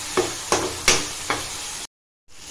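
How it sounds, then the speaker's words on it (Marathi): Tomatoes and turmeric frying in a pan for a leftover-chapati chivda, with four distinct stirring scrapes over a sizzling hiss before the sound cuts out abruptly. "हळद टाकूया, चांगलं परतून घेऊया"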